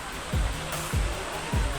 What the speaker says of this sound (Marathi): धबधबा इकडे